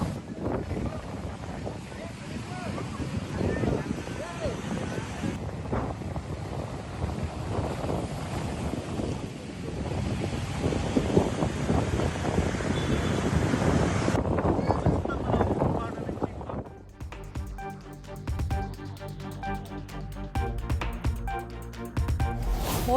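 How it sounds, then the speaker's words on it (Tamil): Rough sea and strong wind lash the Uppada coast in Kakinada district during Cyclone Montha: a steady roaring, buffeting rush of wind and surf fills most of the stretch, with a voice speaking over it, before an abrupt change near the end. "காக்கிநாடா மாவட்டத்தின் உப்படா பகுதியில் கொந்தளிப்புடன் காணப்படும் கடல்"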